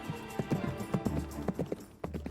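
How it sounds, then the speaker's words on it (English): Horse hooves clip-clop at a steady canter, a repeating rhythm of close, moderately loud hoofbeats with no voices over them. "At a steady canter, a horse can travel at around 15 miles per hour."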